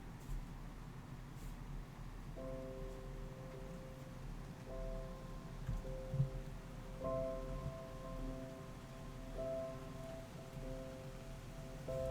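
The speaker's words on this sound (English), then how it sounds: "Can you guys hear the rain?" Steady rain falls throughout, a constant soft hiss with faint tonal chimes appearing partway through, no voices present.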